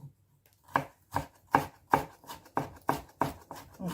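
A knife chops carrots on a cutting board in a steady series of about nine crisp, evenly spaced strikes, close and clear, with no talking.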